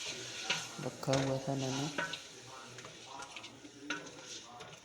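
Boiled beef going into a pot with its stock for beef pulao, then stirred, giving a sizzling fry with scraping and clinking of a spoon against the pot, while someone speaks over it.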